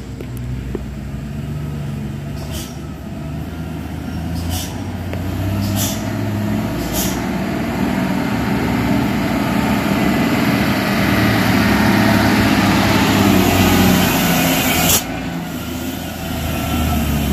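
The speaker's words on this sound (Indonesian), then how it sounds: "satu unit truk diesel yang mau mendaki" Diesel truck laboring up a steep mountain road, a loud continuous low engine rumble that swells and holds for many seconds, with a few sharp hissing bursts along the way.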